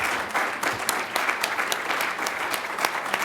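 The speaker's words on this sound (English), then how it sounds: "all get up and give him a round of applause for him being in prison and staying true to his beliefs" Audience clapping at a community poetry celebration, steady mid-level applause from a crowd with scattered sharper claps throughout and no talk.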